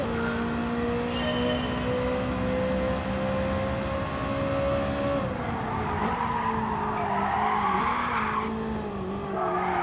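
A BMW M3 brakes hard in Gran Turismo 7, its tires squealing in a long, steady skid as the engine note drops, loud and close throughout.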